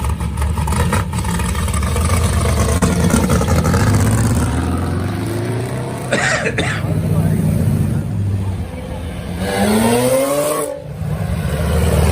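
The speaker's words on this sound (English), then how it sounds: "There goes the street legal race car." A lowered, street-legal race car on air ride accelerates past at a car show, its engine revving up and fading, with people talking over it nearby.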